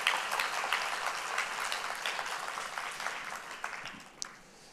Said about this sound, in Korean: 다시 한번 영광과 격려의 박수 한번 드리겠습니다